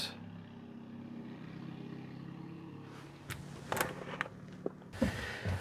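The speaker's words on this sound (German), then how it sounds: "Der Motor, der Auspuff tuckert." A vehicle engine and exhaust chugging in a low, steady rumble, fairly near, with a few clicks and bumps joining toward the end.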